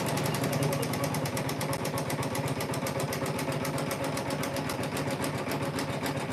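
A computerized sewing machine runs at 1,000 stitches per minute while stitching a quilt block, giving a steady, rapid, evenly repeating mechanical chatter that holds constant and fairly loud throughout with no talk over it.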